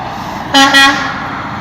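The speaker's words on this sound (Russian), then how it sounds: "Машины сигналят." A car horn honks twice in quick succession, a loud short double beep over steady background hum, then quiet street noise.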